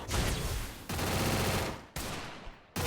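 Rapid automatic gunfire from the Free Fire battle royale game, loud and continuous in three dense bursts separated by brief breaks, with no talking.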